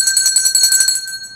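An electric bell rings steadily for about a second with a bright metallic buzz, then fades out quickly, loud and close with no other sounds.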